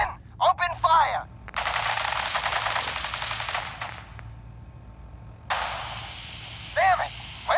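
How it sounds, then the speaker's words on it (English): Automatic gunfire in the video game Fallout 4, a sustained loud burst of rapid shots lasting several seconds, then a second burst, with brief game dialogue voices around the shooting. "Men, open fire!"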